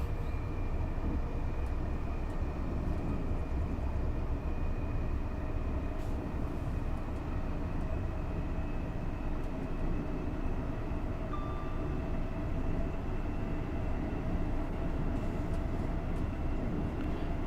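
An LNER Class 801 Azuma train running in Train Sim World 4, a steady low rumbling drone with a faint constant tone, continuous and fairly loud with no voices.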